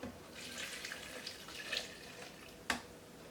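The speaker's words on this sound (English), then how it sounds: "So we'll just pour the coffee on top." Liquid pours quietly in a thin, steady trickle, followed by a single sharp clink near the end.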